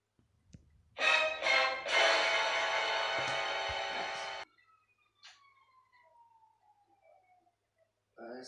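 A police car siren in GTA 5 wails loud and close for about three seconds and then cuts out, leaving faint sliding tones and brief blips behind.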